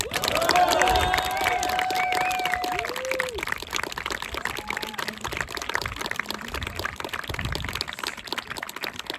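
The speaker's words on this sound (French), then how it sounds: "On va applaudir les mariés." Wedding guests applaud the newlyweds, with steady crowd clapping and some cheering that fills the room and slowly fades, as whistles and voices rise over it near the start.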